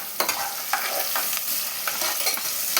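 Onions sautéed with salt in oil for chicken dum biryani, a constant close sizzle punctuated by regular spatula scrapes and taps, no voices.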